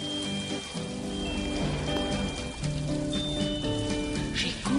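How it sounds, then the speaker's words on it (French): Steady rain patters and trickles against window panes during a classic car event at the Le Mans circuit, a continuous close wash with faint tonal hum beneath. "J'écoute en soupirant la pluie qui ruisselle, frappant doucement sur mes carreaux."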